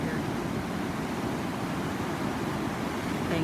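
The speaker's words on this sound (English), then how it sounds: "and to Nick Galvadon, who surfed the waves here." Ocean waves at Santa Monica Beach's Inkwell give a steady, soft wash of surf with a faint windy hiss, continuous and fairly distant, without talking.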